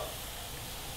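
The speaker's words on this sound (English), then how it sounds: "Hear that sizzling?" Garlic and onion sizzling in a hot pan, a dense continuous hiss of frying that stays steady and close for a brief moment, with no talking.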